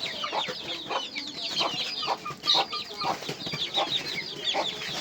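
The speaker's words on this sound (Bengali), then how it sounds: "এই যে দেখেন আমার শখের সেই মুরগি" Brahma chickens cluck in short, repeated bursts, several birds close by, with a steady run of overlapping clucks and no talking.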